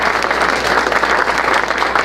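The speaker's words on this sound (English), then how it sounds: "Ladies and gentlemen, a round of applause for both of our candidates for being here tonight." Audience applause for both candidates after an evening debate, dense and steady clapping from a roomful of people filling the whole stretch at a strong, even level.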